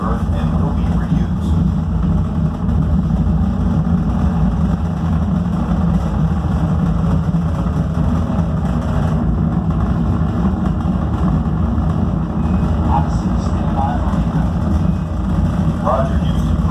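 Steady, loud space shuttle engine roar inside the Odyssey launch simulator at a science center, a continuous heavy low rumble that holds unbroken throughout with faint voices beneath it.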